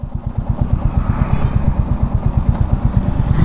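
A Royal Enfield Classic 350 motorcycle engine running steadily at idle in neutral, with a loud, close, rhythmic low thumping pulse throughout.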